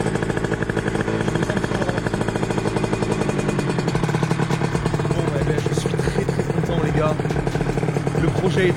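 A Derbi DRD LTD motorcycle with a 70cc two-stroke engine revs loudly and steadily nearby, its pitch rising and dropping back repeatedly throughout with a buzzing, rattly tone.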